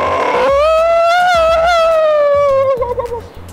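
A person howls from a rooftop, one loud sustained wavering howl imitating a wolf or dog that rises, holds and trails off into a few breathy tails.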